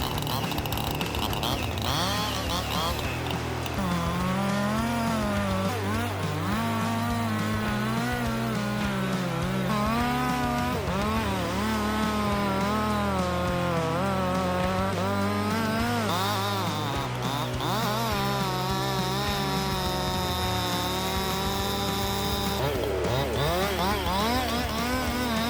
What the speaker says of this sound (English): As the blade makes contact with the tree trunk, the chain starts slicing through, sending sawdust flying.